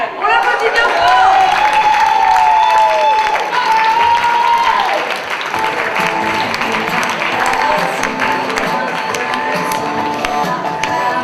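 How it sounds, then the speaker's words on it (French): Applause from an audience at a slam poetry event, loud and sustained, with a voice speaking over it and some cheering mixed in. "Gaël, on l'applaudit bien fort."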